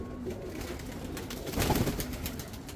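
High flying pigeons cooing close by, a soft low repeated coo rising louder toward the end over a steady outdoor background, with no talking.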